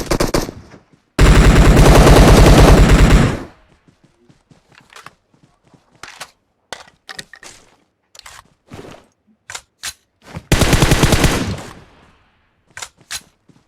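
Automatic gunfire in PUBG Mobile, a long loud burst followed by scattered single shots and short bursts, then another sustained burst and a few isolated cracks, with footsteps between volleys.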